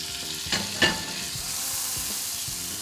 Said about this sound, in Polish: Jedną łyżkę masła wykładam na patelnię i jak widzicie, w sekundę się roztapia